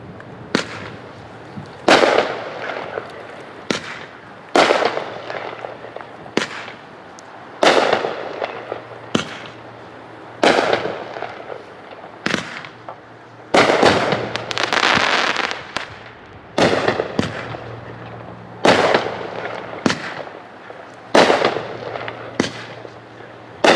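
A Wild West 500-gram consumer fireworks cake fires its 15 shots as sharp, loud bursts with crackling tails, launched in irregular spaced volleys over about twenty seconds with no talking.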